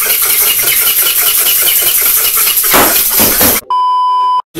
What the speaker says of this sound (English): Well, what is this? That's a timer.